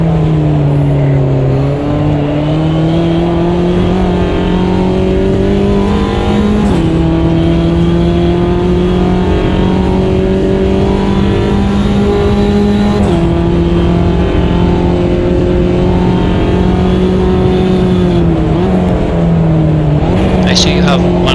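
A Mini JCW race car engine held at full throttle in a racing game, a loud, steady high-revving drone with slight pitch shifts as it climbs and dips, while people talk over it throughout.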